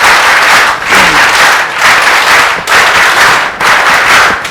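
Audience applause at a coaching-institute event in Kota, loud broadband clapping in several surging waves that swell and briefly dip, with no talk over it.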